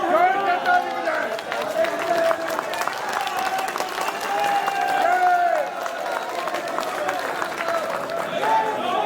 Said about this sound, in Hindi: बजाएं, जोर से ताली बजाएं।